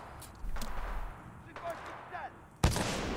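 Gunfire in the Titanfall 2 video game: a few sharp shots spread over a few seconds, the last one a loud close crack, with game sounds underneath and someone talking.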